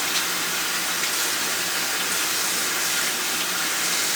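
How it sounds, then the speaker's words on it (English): Kitchen tap water running in a steady broad rush while a knife is washed under it, close and unbroken for the whole stretch with no speech. "we're also going to wash the knife too"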